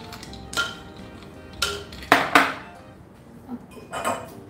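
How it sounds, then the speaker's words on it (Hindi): Ice cubes drop into a container for buttermilk with coriander and chilli, making a handful of sharp, hard clinks and knocks in an irregular rhythm, close and fairly quiet. "और इसके अंदर हम डालेंगे बर्फ,"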